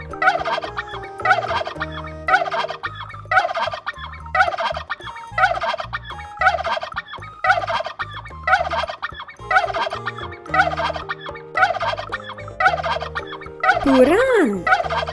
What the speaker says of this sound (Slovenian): Puran.